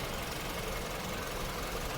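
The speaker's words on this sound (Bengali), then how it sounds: "গাড়িটা স্টার্টে আছে" A petrol car sits with its engine running at idle, a steady close rumble with a faint knocking texture and no change in pace across the short clip.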